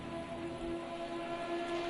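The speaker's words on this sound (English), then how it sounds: "Already see some puddles forming in the rain" Steady rain falls on a race track, a constant fairly quiet hiss of drops with a faint low tonal hum underneath and no pauses.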